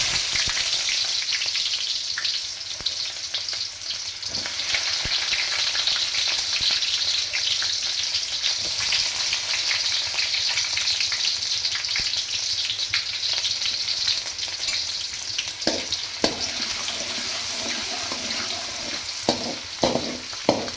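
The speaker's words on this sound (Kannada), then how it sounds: "ಈ ಕಾದಿರೋ ಅಂಥ ಆಯಿಲ್ಗೆ ನಾನು ಈರುಳ್ಳಿನ ಹಾಕ್ತಾಯಿದ್ದೀನಿ" Onions fry in hot oil for red chilli chicken, a loud, dense sizzle that holds steady the whole time, with a few stirring knocks near the end.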